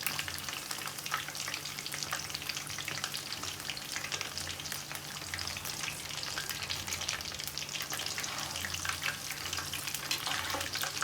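Chicken pakora deep-fries in hot oil with a constant crackling sizzle, close and steady throughout, and a faint low hum beneath it, with no one speaking.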